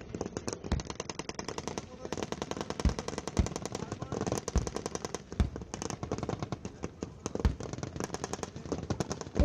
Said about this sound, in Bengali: এই মুহূর্তে আপনারা দেখতে পাচ্ছেন আর্টিলারি, মর্টার এবং ফায়ারবেস থেকে শত্রু অবস্থানের উপর বিপুল হারে গোলাবর্ষণ হচ্ছে